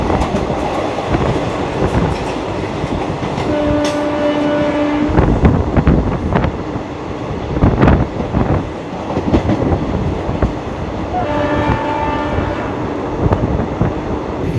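The Amravati Express runs steadily on the Kolkata to Goa route, a continuous loud rumble and clatter of wheels on rails with rhythmic clicks, and brief tonal squeals or a distant horn rising twice over the running noise.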